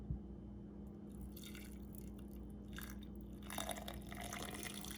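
Water trickles slowly into a mug over a hot chocolate bomb, a faint, steady splashing and dribbling that swells slightly toward the end in a quiet room.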